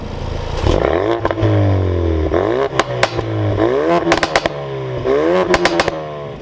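A 2017 Ford Focus RS engine revs hard and repeatedly, pitch sweeping up and down through gear changes, loud and close, with rattles and crackles between surges.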